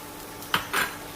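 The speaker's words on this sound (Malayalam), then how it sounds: "അതിന് ചൂടായ ഒരു പാനിലേക്ക് 3/4 കപ്പ് തേങ്ങ എടുക്കാം" Grated coconut, three-quarters of a cup, is tipped into a hot pan for roasting, heard as a brief metallic clink and scrape of a utensil against the pan over faint background hiss.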